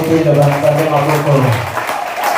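A church congregation at a Sunday service claps together in a sustained burst of applause, mixed with voices that fade out toward the end.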